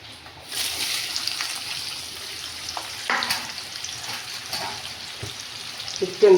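Onions fry in hot oil for an Odia chicken curry, a steady close sizzle and hiss with occasional stirring clicks and a brief louder burst at the end.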